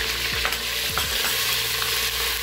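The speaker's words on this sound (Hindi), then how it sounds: "अब इस स्टेज पे जो हम साथ इसके अदरक लहसुन का पेस्ट डाल देंगे" Onions sizzle steadily in a pan as ginger garlic paste goes in, a loud, continuous frying hiss with soft spoon scrapes and stirring knocks, close and with no talking.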